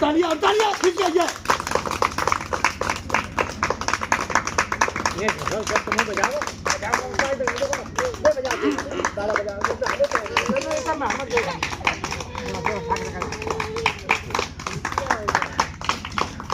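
Children clap hands on cue in a group, fast dense rhythmic claps, loud and close, with voices chanting and talking over the clapping throughout.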